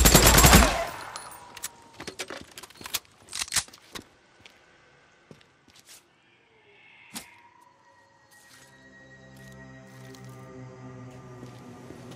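Gunfire in the video game Days Gone: a loud opening burst followed by several sharp cracking shots spaced over a few seconds, then a quieter stretch with a single later crack and low ambient game sound.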